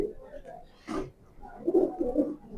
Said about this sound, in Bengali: শেষে যে সবজি পেয়ারটা দেখাইলাম এটার পেটিগ্রি এটা হ্যারি হ্যারি লাইনের কবুতর বাচ্চা দুইটাই